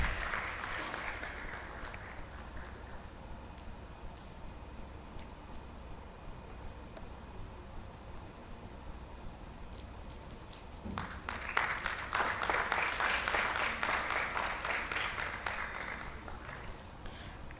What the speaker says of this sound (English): A round of applause for Ms. Neha.